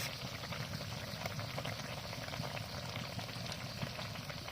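Curry bubbles at a steady boil in a pot, a dense, continuous burble heard close and fairly quiet, with no voices.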